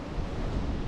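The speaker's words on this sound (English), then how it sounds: "it's a little windy out here." A brief burst of wind gusting across the microphone, a rough, broadband rush with no voices.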